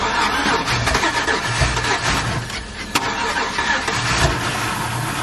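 A Chevrolet Cateye Z71 single-cab truck cranks over with its engine churning and catching, a loud, close, rough mechanical drone with brief surges throughout.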